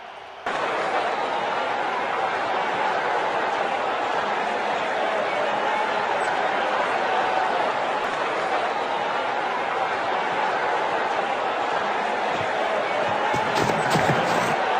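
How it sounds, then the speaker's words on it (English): A loud, steady roar of a large crowd fills the whole stretch, dense and unbroken, with a few sharp thuds near the end. "The crowd has gone mad."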